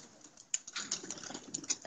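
Pigeons at a loft, heard faintly as soft flutters, light scratchy movement and a few sharp high chirps or clicks in a quiet space.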